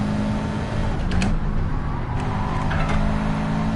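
In Gran Turismo 7 at Monza, a Subaru WRX engine roars steadily and loudly as it accelerates, a dense continuous drone with faint brief squeaks on top.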